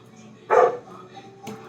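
A single dog gives one short, loud bark close by indoors, followed by a faint second yip a moment later against a quiet background.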